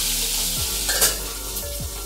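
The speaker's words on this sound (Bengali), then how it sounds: "আপনারা দেখছেন আমার ট্যাংরা মাছ ভাজা হয়ে গেছে।" Tangra fish frying in hot oil in a pan, a steady close sizzle throughout with a couple of soft stirring scrapes and a brief louder spatter midway.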